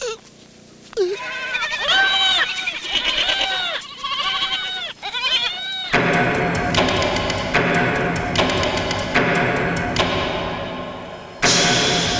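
A goat bleats several times in quick succession, loud and close, before a steady rough background noise takes over.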